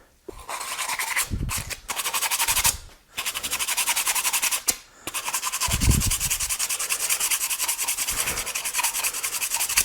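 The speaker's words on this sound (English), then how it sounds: "I got drywall sandpaper." A part is scrubbed by hand with drywall sandpaper during a heater repair on a 2005 Nissan Altima, giving a loud, close, steady rasping of back-and-forth strokes broken by a few brief pauses.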